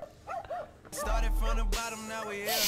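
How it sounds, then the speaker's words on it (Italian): A dog on a roof lets out short barks and yips, loud and fairly close, amid excited voices and laughter. "Ma perché c'è un cane sul tetto?"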